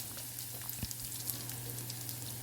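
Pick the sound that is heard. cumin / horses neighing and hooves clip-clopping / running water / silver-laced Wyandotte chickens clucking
cumin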